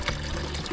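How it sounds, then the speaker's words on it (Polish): Water splashes and pours into a homemade backyard fish hatchery holding pike roe, a short, soft, steady gush of liquid. "Nalewamy wodę i za chwilę Klaudiusz będzie wlewał"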